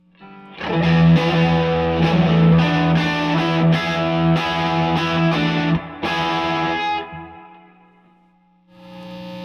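Electric guitar played loud through a cranked Fender '68 Custom Vibro Champ Reverb amp, strummed chords ringing with grit and reverb for several seconds, then cutting off into near silence before another chord starts.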